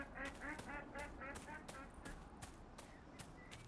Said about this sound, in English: Sound like a duck, didn't it?